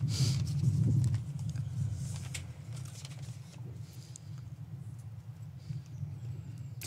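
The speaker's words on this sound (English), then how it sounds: "It's always good to watch someone who's as graceful as him on a horse" Horse hooves clip-clop at the Sandhurst stables, a loose series of nearby thuds and knocks over a low, steady rumble, strongest at the start and fading to softer scattered steps.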